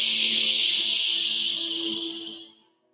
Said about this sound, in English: Let's steam it out using a nice, powerful breath, like shh.